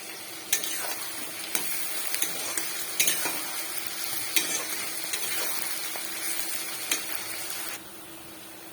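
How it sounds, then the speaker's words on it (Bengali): Onions frying in a pan for yogurt chicken give a steady, close sizzle, with regular sharp clinks of a spoon stirring against the pan until the stirring stops near the end. "পেঁয়াজটা লাল লাল করে মোটামুটি ভাজা হয়ে গেছে।"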